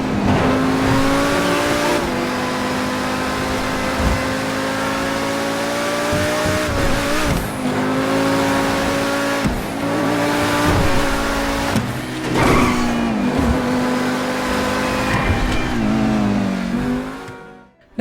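Progen Luiva supercar in GTA Online revving and accelerating hard through repeated gear changes, a loud, close engine roar with brief tire squeals, running continuously for about eighteen seconds before fading out.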